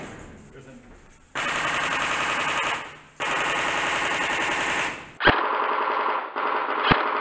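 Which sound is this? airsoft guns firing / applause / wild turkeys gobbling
airsoft guns firing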